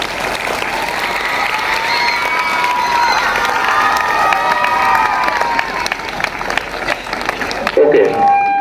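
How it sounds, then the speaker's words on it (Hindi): A crowd at a school Republic Day celebration claps loudly and cheers for a man, with children's shouts mixed into the sustained applause before it thins and breaks off near the end. "मैं चाहता हूं कि यहां से उनके लिए एक बार जोरों से तालियां हो जाए"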